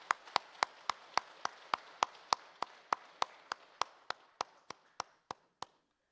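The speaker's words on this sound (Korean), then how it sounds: "우리 박수로 환영의 박수로 맞이하도록 하겠습니다" A church congregation at a Sunday service claps in welcome, about twenty sharp claps in a steady unison rhythm that gradually soften and stop.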